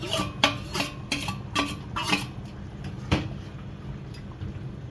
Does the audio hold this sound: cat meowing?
no